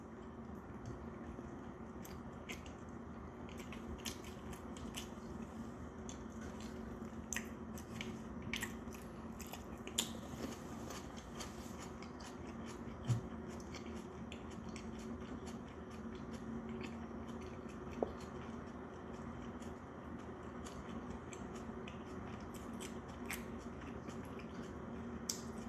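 Someone close to the microphone chews and eats flounder, alongside aged kimchi, at a Korean set meal. The soft, wet biting and squishy mastication continue through the whole stretch with a few small clicks and no talking.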